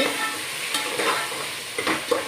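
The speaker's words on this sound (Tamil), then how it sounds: "நல்லா வதக்கிடலாம் நல்லா வதக்குங்க ஒவ்வொன்று நம்ம வந்து தனித்தனியாக போட்டு வதக்கும் போது" Chicken biryani ingredients being stirred and sautéed in hot oil, a steady sizzle with several scraping stir strokes close up and no voices.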